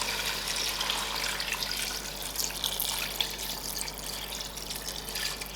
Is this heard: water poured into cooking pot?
yes